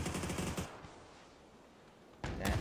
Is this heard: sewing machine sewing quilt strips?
no